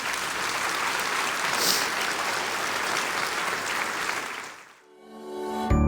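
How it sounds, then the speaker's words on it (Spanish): Church congregation breaks into warm, dense applause after a sermon, steady and fairly loud for several seconds, then cuts off abruptly as a musical tone begins. "Dele un aplauso al Señor"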